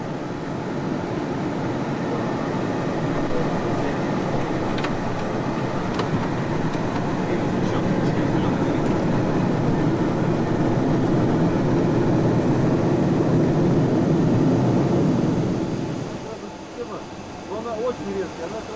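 An Antonov An-124 cargo aircraft rolling out after a night landing, a loud steady broadband jet engine roar that holds for about fifteen seconds, then drops away sharply into quieter ambience.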